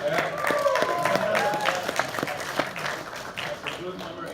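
An audience applauds at an anime convention panel for Kill la Kill the game, a few seconds of crowd clapping mixed with voices that fades toward the end.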